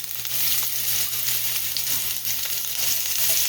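Hamburger steaks fry in a pan with a steady, dense sizzle that holds level throughout, close and fairly loud, with a low hum underneath and no talking.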